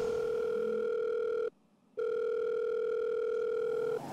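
A telephone dial tone hums steadily as a call is placed, with a short gap of silence midway before the tone resumes, loud and close with no talk.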